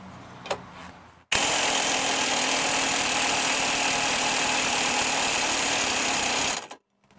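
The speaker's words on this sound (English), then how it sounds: "using the gun to unscrew it from the other side" An impact gun spins a nut off a leaf spring on a vehicle's double leaf spring suspension, giving one steady, loud, close burst of about five seconds that starts abruptly and then winds down, with no talking.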